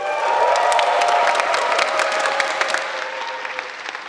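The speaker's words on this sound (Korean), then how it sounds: "예, 박수 한번 다시 한번 이렇게." Audience applause at a choir seminar reading session, a full room clapping steadily and fairly close, fading slightly toward the end with a faint voice underneath.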